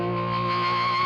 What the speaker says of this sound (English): Let's turn the distortion up even more